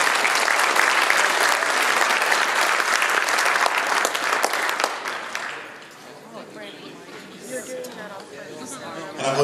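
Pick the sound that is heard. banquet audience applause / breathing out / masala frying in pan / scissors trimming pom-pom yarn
banquet audience applause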